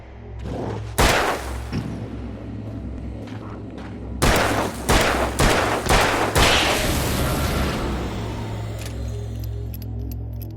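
In the Alan Wake video game, several loud gunshots ring out: one sharp blast early, then a cluster of four or five in quick succession, each followed by fading echo over a low ambient hum.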